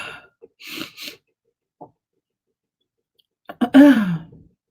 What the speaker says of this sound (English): I always get to get on camera and start sneezing